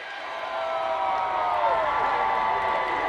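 Large crowd cheering and clapping along an outdoor parade route in Civic Center Park for the Colorado Avalanche Stanley Cup victory parade, a continuous distant roar with whistles and shouts throughout.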